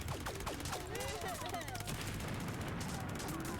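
Rapid explosions and blasts go off in the video game The Binding of Isaac: Repentance, a dense continuous barrage of booms and crackles with game effects layered over it, loud and sustained.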